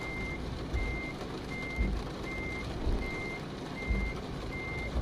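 A semi truck backing up a trailer in Euro Truck Simulator 2 sounds a steady run of seven evenly spaced reversing beeps over a low engine rumble, with periodic soft air puffs.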